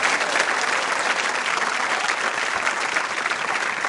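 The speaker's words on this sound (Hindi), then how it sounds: "मैम के लिए तालियां।" An audience at a school quiz show claps for a teacher, a loud, continuous burst of many hands that holds steady throughout without any speech.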